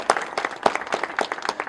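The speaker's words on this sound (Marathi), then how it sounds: "त्या कॉन्फिडन्सला एकदा जोरदार टाळ्या वाजवायला पाहिजे" An audience at a teachers' and officials' event in Amravati claps in a short, lively burst of overlapping hand claps, close and fairly even throughout.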